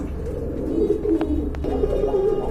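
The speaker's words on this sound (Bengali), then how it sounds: "এটা কিন্তু সম্পূর্ণ রানিং কবুতর রয়েছে" Running pigeons kept in a breeding loft give soft, low, repeated cooing close by, with a few brief sharper clicks or flutters mixed in.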